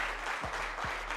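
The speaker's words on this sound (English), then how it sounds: "let's give them a huge round of applause" Studio audience applause for contestants on a televised school quiz show, a steady broadband wash of clapping, fairly close and continuous with no voices over it.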